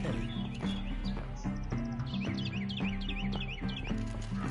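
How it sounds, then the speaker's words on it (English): Birds chirping outdoors in a PS4 video game, rapid repeated tweets and calls over low rhythmic game music and faint hoof clip-clops. "I hear all the birds"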